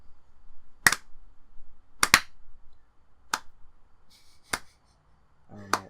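About six sharp single hand claps at slow, uneven intervals, close by in an otherwise quiet room.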